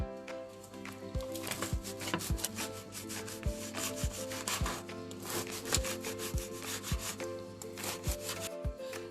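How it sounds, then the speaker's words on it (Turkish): Steady rhythmic sawing and scraping of a knife cutting stale crusty bread into cubes, repeated strokes close up, with a faint tonal hum in the background. "bayat ekmeğimi küp küp şekilde kesip"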